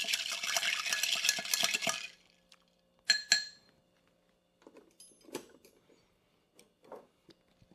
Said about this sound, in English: Trying to get it good and chilled, good and mixed before pour it into our rocks glass over ice.